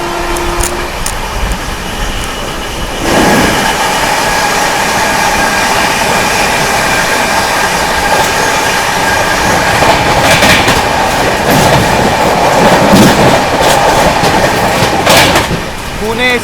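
The Hazrat Nizamuddin Pune AC Duronto Express passes close by, a loud, sustained roar with rhythmic clickety-clack of wheels for most of the run, heard from a moving train near Mathura Junction.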